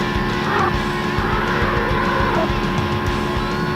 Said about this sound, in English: Interesting sort of tyre squeal. It sounds like they've recorded low speed tyre squeal